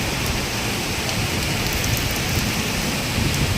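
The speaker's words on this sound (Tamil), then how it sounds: "இப்போது செம்மையாக மழை அடிக்குது" Heavy rain pours down in Bangalore as a loud, dense, unbroken hiss of drops close by, with no talking over it.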